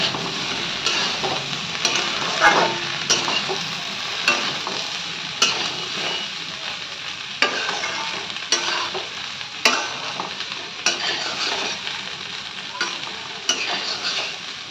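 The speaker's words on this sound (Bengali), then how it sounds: "এখানে বসিয়ে দিয়েছি আলু ফুলকপি আর পেঁয়াজ কলি দিয়ে ভাজা।" Potato, cauliflower and onion stalks fry in a pan with a constant bright sizzle, punctuated every second or two by a spatula scraping and tapping as it stirs; nobody speaks.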